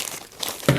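A plastic Ziploc bag crinkles briefly up close, a short soft rustle ending in a sharper crackle.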